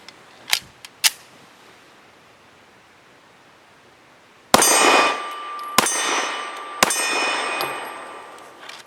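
Tisas Regent BR9 pistol firing Blazer Brass 124 grain ammunition, two faint distant reports followed by three loud sharp shots with ringing decay, spaced about a second apart.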